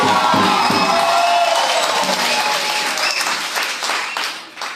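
A church congregation claps hands for the Lord during a service in Laare, the dense, steady applause loud at first, then thinning and fading toward the end, with a few faint voices mixed in.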